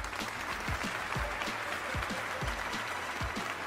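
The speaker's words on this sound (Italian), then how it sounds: "Si alza il cartello per farli applaudire." Studio audience applauding on cue in a talk-show set, a fairly quiet, even wash of clapping with distinct nearby hand claps, continuous throughout without speech.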